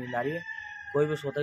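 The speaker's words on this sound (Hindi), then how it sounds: "मुर्गा भी बोल रहा भाई" A rooster crows in the early morning before dawn, a clear tonal call with a pause partway through, heard close over someone talking in Hindi.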